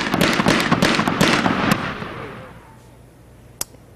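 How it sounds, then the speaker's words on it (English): A rapid volley of sharp gunshots and cracks rings out for about two seconds during a shootout in Harrisburg, fading into a quiet echoing tail with one final distant shot. "And that gunfire just continues in this piece here."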